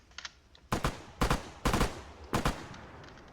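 Gunfire in the military shooter Arma 3: four sharp bursts of automatic fire in quick succession, preceded by a couple of fainter distant shots, with no talking.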